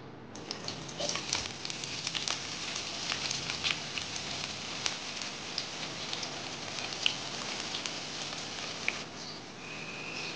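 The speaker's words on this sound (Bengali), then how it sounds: "তেল গরম হয়ে গেছে, এখন দিয়ে দিব পেঁয়াজ কুচি।" Chopped onions frying in hot white oil for a small-fish chorchori curry, a steady dense crackle and patter of sizzling held throughout at close range, with no voices.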